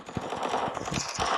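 Rapid bursts of automatic gunfire from the offline mobile game PUBG Mobile crackle continuously, dense and loud, with shots overlapping throughout.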